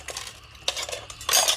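Bowls and dishes are washed by hand early in the morning, with ceramic and cutlery clattering in quick, irregular clinks and scrapes close by, ending in a busier burst of clanking.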